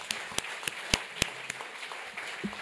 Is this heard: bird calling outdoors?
no